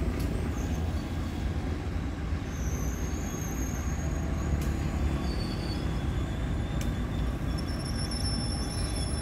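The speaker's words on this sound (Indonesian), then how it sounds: "kereta api yang akan berhenti untuk menaikkan serta menurunkan penumpang di stasiun Rancaikek" A train pulls slowly into a station, a steady low rumble of rolling wagons with thin, high metallic wheel squeals rising and fading over the drone, heard alone without speech.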